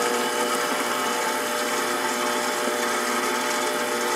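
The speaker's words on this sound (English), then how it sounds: "And that will continue to mix for a few minutes until we have a really soft dough there." A stand mixer kneads soft English muffin dough, a loud, continuous motor whir that holds steady throughout without pause.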